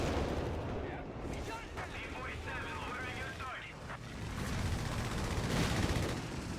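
Company of Heroes 3 battle audio with a rumbling artillery barrage and strafing gunfire, dense and continuous under an excited commentator talking throughout.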